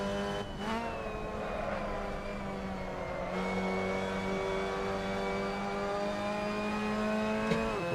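Mazda MX-5 Cup race cars lapping Martinsville in a racing video game, a constant close engine whine with gear-shift dips and a brief tire squeal, uninterrupted by speech.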